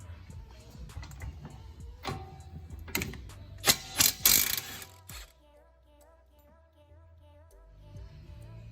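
A ratchet working on suspension bolts of a 2011 Hyundai Genesis Coupe 2.0T, with rapid clicking under a garage background, a few louder clanks near the middle, then quick light ratcheting clicks alone toward the end.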